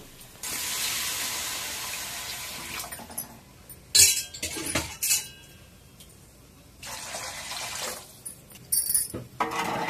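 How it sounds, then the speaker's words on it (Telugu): Water poured from glasses into a pot of rice for bagara rice, in several splashing bursts with metallic clinks of the vessel between pours. "4 గ్లాసులకి 8 గ్లాసుల నీళ్ళు మనం దీంట్లోకి వేసుకుందాం."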